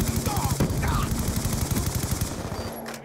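Rapid automatic gunfire in Call of Duty Black Ops 2, a steady stream of evenly spaced shots under dense game noise, fading out near the end.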